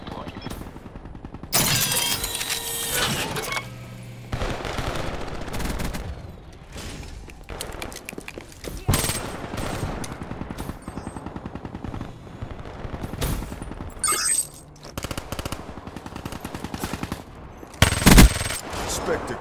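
A suppressed M8A7 rifle fires in Black Ops 3 gameplay, with rapid bursts of muffled shots amid dense battle noise, explosions and in-game announcer voices across a continuous loud firefight.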